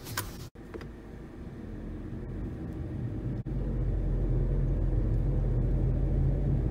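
Bad front wheel bearing on a car rumbling steadily as the car drives, a constant low drone inside the cabin that grows a little louder partway through, with no talk.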